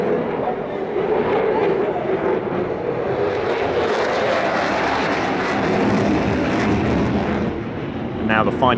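Twin General Electric F110 engines on an F-15SG fighter jet roar with afterburners through a tight minimum-radius turn at an airshow in Singapore. The sound is a loud, sustained, broadband rumble that swells and fades slightly as the jet passes, with crowd noise underneath.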